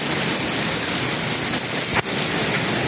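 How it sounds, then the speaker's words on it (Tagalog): Heavy rain in Kuwait pours down in a steady, dense roar, with a brief crackling burst partway through. "pero grabing ulan"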